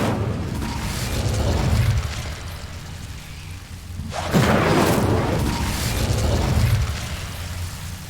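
An Incendio fire spell cast in Hogwarts Legacy, a burst of whooshing flame that flares up sharply midway and then crackles and roars before fading, over a steady ambient game background.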